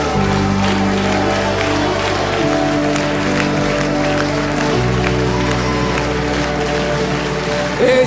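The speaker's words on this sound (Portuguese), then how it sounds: "aplauda mais forte a esse Jesus" Steady, sustained congregational clapping fills a Sunday morning church service, dense and even throughout, with sustained musical tones underneath.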